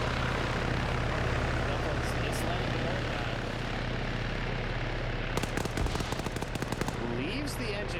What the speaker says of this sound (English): And with the helicopter flying above